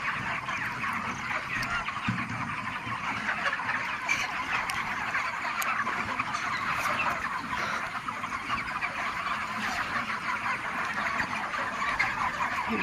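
Chickens on a poultry farm, broiler birds about 32 days old, make a dense continuous chorus of clucking and calls, steady and fairly loud throughout with no talk.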